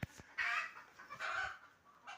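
Chickens in a backyard flock of about a hundred birds give short, loud clucking bursts, three or four separate calls with quiet gaps between them and no talk.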